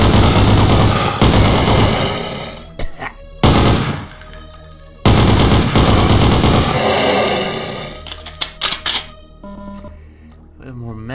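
Loud bursts of automatic gunfire in Doom, several rapid volleys separated by brief pauses, ending with a few scattered single shots and clicks.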